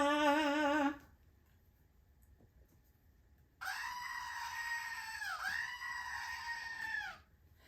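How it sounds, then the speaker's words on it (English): Screaming goat sound effect: two loud, harmonic, bleating screams, a short one at the start and a longer wavering one after a pause of near silence, alone without talk. "Yes, the screaming goat"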